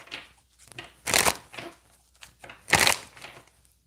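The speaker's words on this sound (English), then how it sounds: "And as I'm shuffling" Tarot cards are shuffled in two loud riffling bursts with softer taps and slides between them, close and clear with no one talking.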